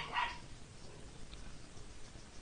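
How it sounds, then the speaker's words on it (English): A dog gives a short bark or yip at the start, then a faint whimper under steady background noise, heard during a screen-capture session with game music playing. "Excuse my crazy dog."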